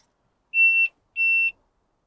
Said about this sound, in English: Does that beep every single time.